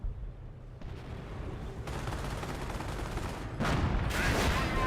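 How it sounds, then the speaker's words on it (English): Sector artillery fire in Company of Heroes, a steady low rumble of distant shelling that grows louder, with sharper blasts near the end. "We got sector artillery down here."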